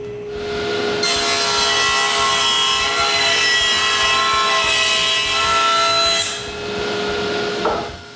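A table saw with its blade raised cuts through wooden garage door panels in a workshop, a steady loud whine and rasping cut running for several seconds, then easing off near the end.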